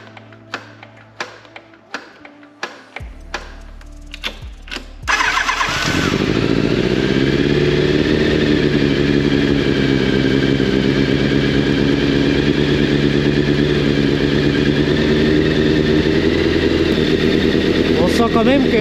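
A Yamaha FZ 750 motorcycle that had sat unstarted for a long time cranks with several sharp starter clicks, then catches and settles into a loud, steady, close idle while someone talks over it.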